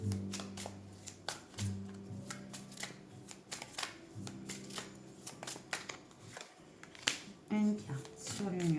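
Tarot cards being shuffled up close, with quick papery riffles and flicks in irregular bursts while someone talks over them.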